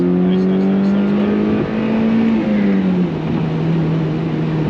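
A Mazda NC Miata accelerating out of a corner during a track day, its engine holding a loud steady drone that steps up in pitch through gear changes, with people talking over it inside the cabin.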